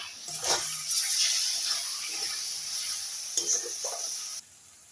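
Kashmiri chili powder, salt and other ground spices are stirred in a sizzling frying pan, a close crackling hiss with scraping strokes that stops abruptly at the end.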